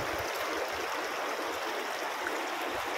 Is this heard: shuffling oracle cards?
no